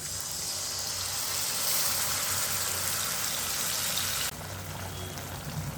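Dissolved tamarind water pours into an amla pickle with a steady, splashy liquid rush, close and moderately loud, easing off near the end and leaving a softer watery hiss, with no voices.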